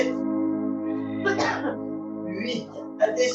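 A single sharp sneeze bursts out in a gentle full-body strength workout class, over a steady droning background tone, with a smaller breathy sound following a moment later.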